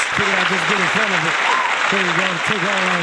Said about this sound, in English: let's give a round of applause to, you know what I'm saying, Kendrick Lamar for winning all the awards